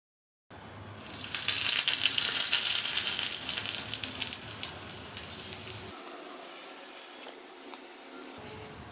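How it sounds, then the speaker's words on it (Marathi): Hot tempering of mustard seeds and curry leaves in oil is poured onto onion chutney, bursting into a loud, hissing sizzle that peaks for several seconds, then softens into a quieter fizz. "आता ही गरम फोडणी जी आहे ती आपण ह्या चटणीवर घालायची आहे"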